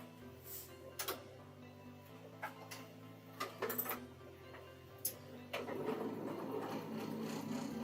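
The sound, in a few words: sewing machine stitching through bulky fabric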